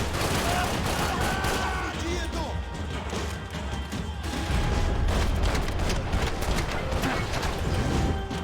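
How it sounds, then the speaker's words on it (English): Bullets riddle the player in Max Payne 3 as a sustained barrage of rapid gunfire and impact crashes, loud and continuous, with a voice talking faintly beneath. "Just getting riddled with bullets"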